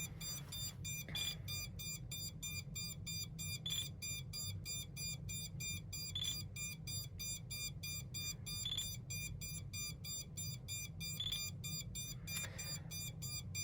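Repeated short electronic beeps come from a Radiomaster TX16S transmitter held in bind mode, pulsing at a fast regular rhythm for many seconds, close-up and quiet against a low steady hum, with no talking.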